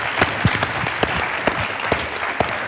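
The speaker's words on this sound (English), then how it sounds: "So let's all join me in huge applause to Oren." A conference keynote audience gives applause, with a steady wash of clapping punctuated by a few louder, sharper individual claps close by.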